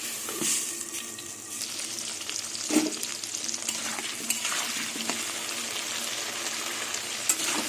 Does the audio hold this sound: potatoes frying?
yes